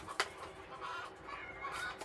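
Chickens squawking and clucking outside, a few irregular calls heard at a distance through indoor room noise, fairly faint.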